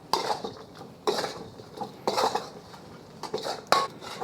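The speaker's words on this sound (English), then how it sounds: "getting this onto a plate" Salt and pepper chicken wings being tipped onto a plate, with four separate bursts of clattering dishes and scraping utensils spaced about a second apart, close and fairly loud.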